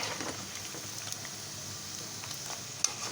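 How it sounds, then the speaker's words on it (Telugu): Chicken pieces for homemade pickle fry steadily in hot oil, a continuous dense sizzle with faint crackles, close and unbroken, no voices. "కొంచెం కొంచెం వేసుకుంటూ వేయించుకోవాలి"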